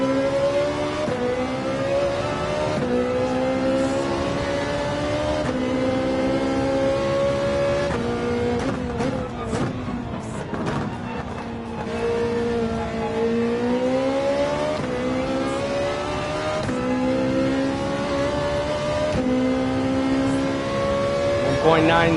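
Viper race car engine in the video game Gran Turismo 7 at Daytona, a loud sustained high-revving drone that climbs and shifts pitch through gear changes, with a person talking over it throughout.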